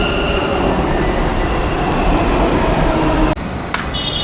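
A metro train at Indiranagar station in Bengaluru, Karnataka, rumbles loudly and steadily on its tracks, with a couple of sharp clacks near the end and a faint high squeal.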